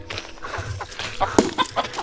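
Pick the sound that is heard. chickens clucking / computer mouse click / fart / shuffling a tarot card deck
chickens clucking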